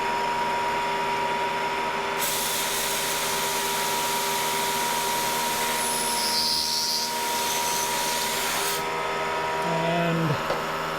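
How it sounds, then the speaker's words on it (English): A Tormach PCNC 1100 CNC mill drilling a hole, its motor and spindle whining steadily with a loud broadband machining roar in the middle, then a falling pitch at the end, close and continuous. "gonna drill the first hole."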